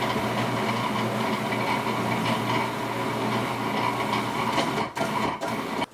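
A blender grinding stinging nettles with a steady, loud mechanical whir that holds for several seconds, then stutters and cuts off near the end.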